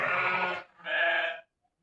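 Sheep at a livestock market, with ewes and pregnant ewes penned nearby, give two loud, close bleats, one after the other, followed by silence.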